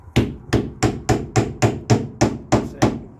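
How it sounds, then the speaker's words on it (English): Hammer striking in a steady rhythm, about ten sharp, loud blows spaced roughly a third of a second apart, close by with no talking. "Got a hammer."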